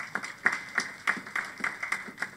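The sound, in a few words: audience applause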